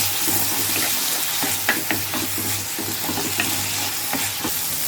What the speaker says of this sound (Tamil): வெங்காயமும் தக்காளியும் நல்லா வதங்கிருச்சு.